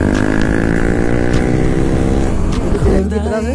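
A motorcycle engine running during a short ride, a loud steady hum close by that holds even, then shifts in pitch near the end as the engine note changes.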